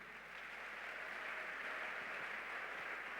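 A church congregation applauding to acclaim the Lord Jesus, steady sustained clapping that holds at an even level throughout without any voices on top.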